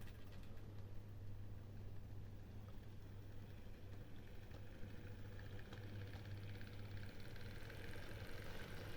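A Mehano RS2 model locomotive with its original Mehano motor, lights on, running on a layout: a very faint, steady electric motor hum and whir with no talking.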